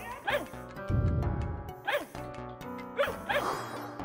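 Cartoonish dog barks from the video game Fidel Dungeon Rescue, three short bursts of yips spaced about a second apart over steady chiptune-style game music, with a low rumbling noise between the first two.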